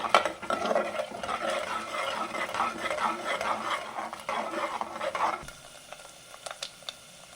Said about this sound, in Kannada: ಇದು ಸ್ವಲ್ಪ ಗೋಲ್ಡನ್ ಕಲರ್ ಬರಬೇಕು, ಫ್ರೈ ಆಗಬೇಕು.